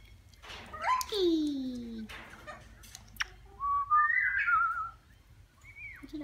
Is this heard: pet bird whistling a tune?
yes